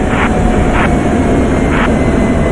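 An F-16 jet engine with throttle being applied, a loud, steady roar and whine filling the whole span with a few pulsing surges.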